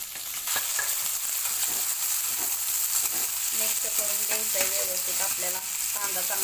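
Chopped onions frying with cumin and green chillies in a pan for mutton biryani, a dense steady sizzle with spatula scrapes and some faint tonal clinks toward the end.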